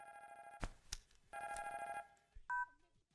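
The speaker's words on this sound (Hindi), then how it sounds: "फोन बज रहा है। तुम्हारा बज रहा है।" A mobile phone rings in two electronic bursts, bright buzzing tones broken by sharp knocks and a short final beep, fairly quiet with no talking.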